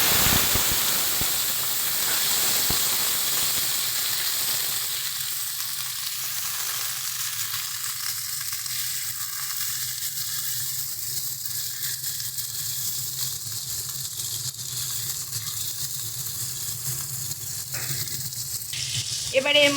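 Green tomato and nigella seeds sizzle steadily in hot oil in a home kitchen pan, a continuous close frying hiss at moderate loudness, with no voices.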